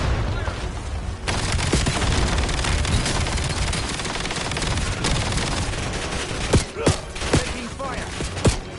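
Dense, loud gunfire in the Black Ops 7 video game: sustained rapid automatic bursts with heavy booms, followed by a few sharper separate shots near the end.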